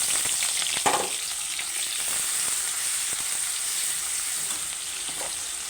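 Sliced onion, garlic and green chilies sizzle steadily in hot oil for a Bengali potato curry, a dense, even frying hiss with a brief louder burst near the start as they hit the pan.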